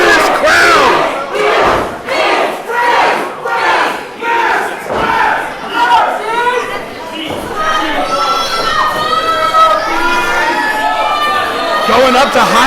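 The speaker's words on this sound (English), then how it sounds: "Listen to this crowd!" A wrestling show crowd roars and chants loudly in steady surging waves, a dense wall of voices rising and falling for the whole stretch, with a commentator's voice mixed in.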